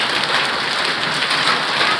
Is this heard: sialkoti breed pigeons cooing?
no